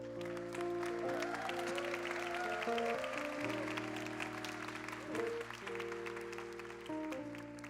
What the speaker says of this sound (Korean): 우리 좀 큰 박수로 좀 축복하십시다